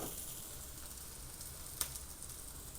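A paneer corn paratha sizzles gently on a hot pan after being flipped, a quiet even frying hiss with one small crackle partway through, no voices.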